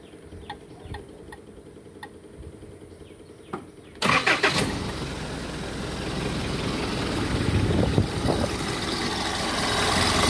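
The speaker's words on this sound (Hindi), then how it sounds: "नॉर्मल जीप से काफ़ी कम आवाज़ है इसी एक ही इंजन की वजह से।" A modified 4x4 jeep with heavy rims: quiet ticking and faint background sounds, then the engine abruptly cranks and fires, settling into a steady, fairly loud idle that gradually builds a little.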